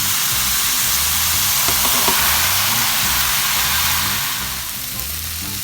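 Egg noodles hit a pan already sizzling with garlic for a fried Vietnamese noodle dish, setting off a loud, steady frying hiss that eases slightly near the end, with no talking.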